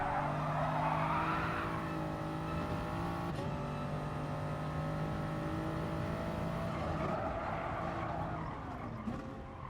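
Toyota Supra race car in a video game at Bathurst, engine droning steadily and loudly with tires squealing and skidding, pitch shifting as it slides, with no talk.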